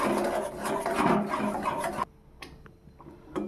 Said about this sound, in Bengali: দেখুন কত সুন্দর বলক করছে। এভাবে নাড়তে থাকবেন।